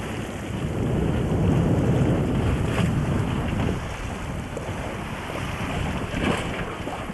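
A sailboat motors along at sea off Mexico, with a steady rushing wash of wind and water over a low drone, loud and continuous, and no voices.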